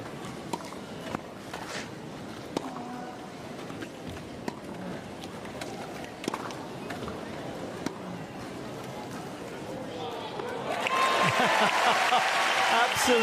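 Spectators at a clay-court wheelchair tennis match clap with sparse, scattered claps at first, then swelling into a fuller burst of applause near the end, with commentary voices running underneath.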